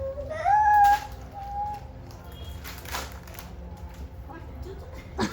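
A child imitates a cat with a couple of high, drawn-out meows near the start, followed by indoor chatter and household noise.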